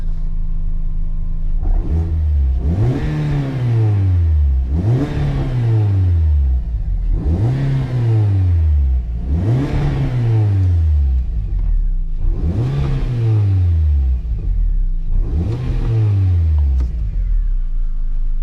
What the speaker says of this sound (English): Now, if you give it a rev